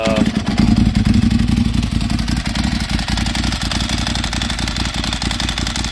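A motorcycle engine idles and runs steadily at close range, its mechanical clatter and rattly clutch noise continuous throughout without pause.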